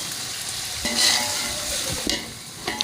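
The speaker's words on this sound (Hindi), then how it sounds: "अब इनको अच्छी तरह भून लें।" Powdered spices frying with ginger garlic paste, a close, bright sizzle with a few stirring scrapes across a short stretch.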